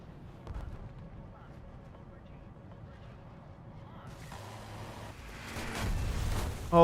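Tank cannon fire in War Thunder comes as a few deep, booming shots spaced seconds apart over a low rumble of engine and battle noise, with a player talking.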